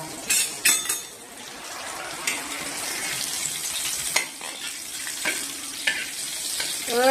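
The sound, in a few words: panch phoron and green chilli sizzling in hot oil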